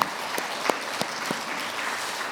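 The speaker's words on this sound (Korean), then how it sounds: "우리 함께 하나님께 감사의 박수 드리면 좋겠습니다" Church congregation at a Korean Baptist Sunday service in Memphis applauding in thanks, a steady wash of many hands clapping with a few sharper claps standing out, moderately loud and sustained throughout.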